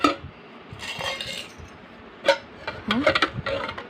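Metal cake pans and a set of measuring spoons are handled, giving scattered metallic clinks and clatters, a few sharper knocks in quick clusters, close and moderately loud over a quiet room.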